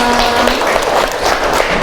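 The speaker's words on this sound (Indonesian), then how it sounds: "Boleh berikan tepuk tangan untuk kita semua." A classroom group claps together during a teacher's lesson, making a dense, loud patter of many hands that holds steady for about two seconds.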